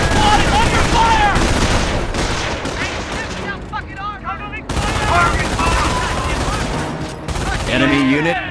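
Battlefield gunfire from Company of Heroes, a Normandy invasion game: dense, loud fusillades of rifle and machine-gun fire with explosive booms, continuous over several seconds, broken by a brief lull and resuming with game voices shouting over it.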